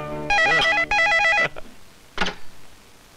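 A telephone rings in a home setting, two loud electronic bell bursts back to back, followed by a brief shorter ring after a pause.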